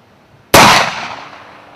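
A Colt army cap-and-ball revolver fires a single loud, sharp shot close by, with a short decaying tail after it following a quiet moment.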